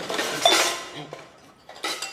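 Steel kitchen vessels, plates, glasses, a wok and a pressure cooker, clatter and clink as they are handled and shared out in a home, with several clanks and rattles close by.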